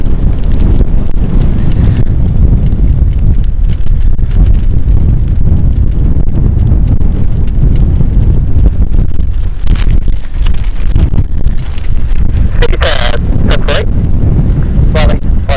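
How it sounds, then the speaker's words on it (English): Strong, steady wind buffeting an outdoor microphone at London City Airport, a loud continuous low rumble that persists throughout, with a few brief higher gusty bursts toward the end. "Wind has really picked up now."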